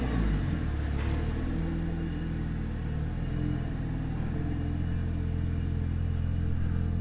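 Mitsubishi Lancer Evolution 8 engine rumbling steadily from inside the moving car, a continuous low drone with mild rises in revs throughout.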